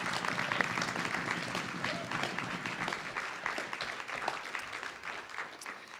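A crowd at a university writing-program reading applauds continuously, a dense wash of many hands clapping at moderate volume, heard from within the room.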